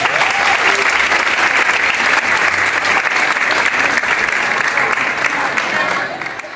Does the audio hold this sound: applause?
yes